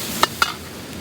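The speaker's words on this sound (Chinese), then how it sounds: "爆炒猪肚来了，火力加大了哦" Two quick metallic scrapes of a spatula against a wok while pig stomach stir-fries over high heat, close and distinct above a soft steady sizzle.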